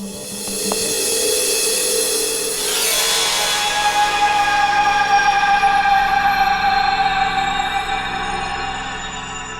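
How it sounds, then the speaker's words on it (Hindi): An ambulance siren wails loud and close as the vehicle arrives. A steady tonal wail rises in the first few seconds and then keeps going without a break, with no talking over it. "सर एम्बुलेंस आ गई"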